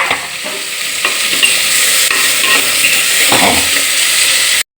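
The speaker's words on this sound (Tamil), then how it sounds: "இப்போ வெங்காயத்தை போட்டுக்கிறோம் அதுக்கப்புறம் தக்காளியை போட்டுக்கிறோம் நல்லா வதக்கி அரைச்சி விட்டுருவோம்" Onion and tomato sautéing in sesame oil for a chickpea curry, a loud continuous hiss and crackle close up, with occasional soft stirring scrapes, ending abruptly.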